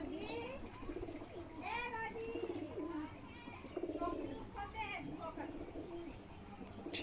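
Male Kalduma pigeons coo in repeated, rolling phrases, close and fairly clear, with faint children's voices and chatter in the background.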